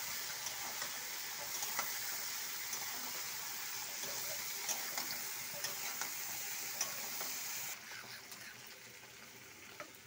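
Fish roe and lotte fish curry frying in a pan as it is stirred, a steady close sizzle with faint scraping taps, no voices, easing slightly near the end.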